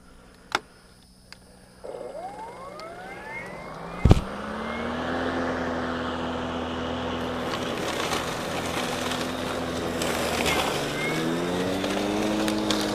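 A RYOBI 40V HP Whisper Series 21-inch electric lawn mower spins up after a couple of sharp clicks, then a steady motor whine with rising tones runs continuously as it cuts waist-high tall weeds nearby.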